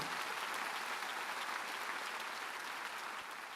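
A congregation claps steadily during a Sunday afternoon church service, a dense, even wash of applause that holds for the whole stretch with no voices over it.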